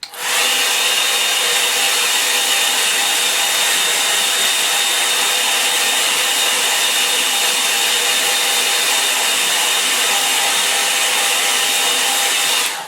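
A hair dryer blows on clipped watercolour paper, a loud, steady whirring hum from start to finish with no breaks and no talking.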